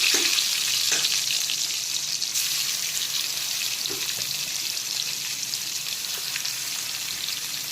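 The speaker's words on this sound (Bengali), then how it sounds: "মাংসগুলোকেও আমি হালকা করে ভেজে নেব।" Chicken pieces coated in salt and turmeric fry lightly in hot oil left from frying potatoes, giving a steady, close sizzle with faint stirring clicks throughout.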